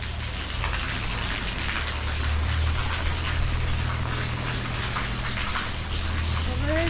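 Heavy rain pours steadily over a village in Bindukhatta, Uttarakhand, a dense continuous hiss of falling water with low rumble beneath, holding at an even, loud level throughout.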